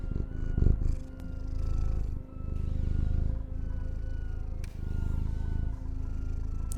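A cat purr, used as a Twitch follower notification, rumbles steadily and close for several seconds in a soft continuous drone with slight rhythmic pulsing.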